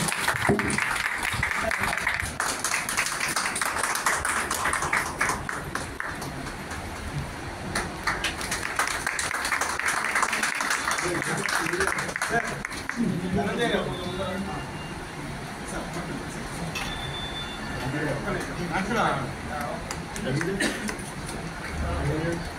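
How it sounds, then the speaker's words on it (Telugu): An audience applauds at a North America Telugu Association autism event: a dense, sustained patter of clapping from many hands, steady at first and thinning later, with voices and chatter mixed in. "అది మా అందరి తరఫున మీరు చప్పట్లు కొట్టండి."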